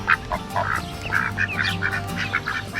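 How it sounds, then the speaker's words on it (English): Canada geese at a dairy farm honk and call repeatedly at close range, steady overlapping bursts over a low outdoor hum while a person talks briefly nearby. "a Canadian goose"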